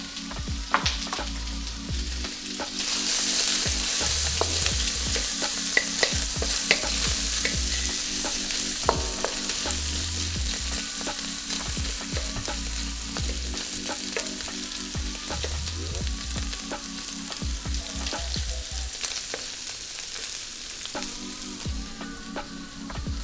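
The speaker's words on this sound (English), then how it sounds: "we're going to get our bacon cooked. We're going to cook it in a wok" Bacon frying in a wok, a continuous close sizzle that swells after the first few seconds, broken by frequent sharp pops and scraping or clinking of a utensil against the metal, with no voices.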